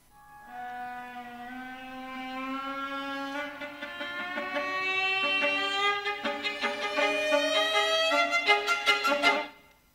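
Orchestral music with sharp, repeated staccato figures imitating clucking hens, starting soft and building to louder, denser bursts near the end.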